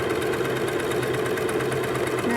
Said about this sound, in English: I'm sewing up this underarm seam